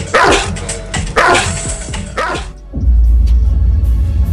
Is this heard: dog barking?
yes